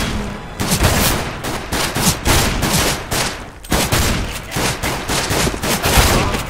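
CS:GO firefight with loud, close bursts of rapid gunfire, automatic volleys repeating in quick clusters with brief gaps between them.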